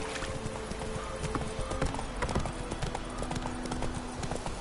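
Roach the horse from The Witcher 3 clip-clops along in a steady run of close hoofbeats over a continuous outdoor ambience. No one speaks.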